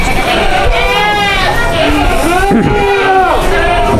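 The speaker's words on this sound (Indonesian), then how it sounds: "ini mau saya tunjukin kambing nanti calon idul adha nih" Male goats in a hotel-style pen bleat repeatedly in wavering, overlapping cries, some close and loud, others farther off, while people talk and chatter around them.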